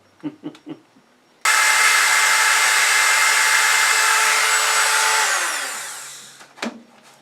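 A grinding stone bit on a rotary tool whines loudly and steadily while rounding a drilled hole in a sea urchin shell, running for about four seconds before spinning down, with brief taps before and after.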